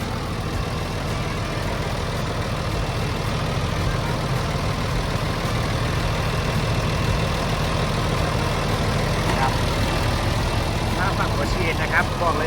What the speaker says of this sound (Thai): เครื่องยนต์แน่ นอน 6 สูบเทอร์โบนะครับ